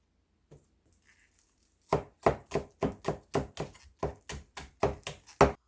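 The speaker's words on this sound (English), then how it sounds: "Chop the scallion." Scallion chopped with a knife on a cutting board for braised pork ribs, about a dozen crisp, evenly spaced thuds following a quiet start with a few faint handling noises, close and clear.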